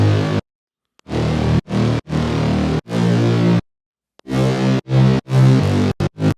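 Layered synth basses for a future bass or melodic bass track, including the Serum preset Bass 25, play loud, thick low notes in choppy bursts separated by short silences, ending in quick stabs.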